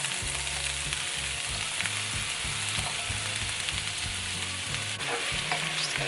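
Onion and green pepper fry in butter in a pan, giving a loud, dense, continuous sizzle close by with no talking.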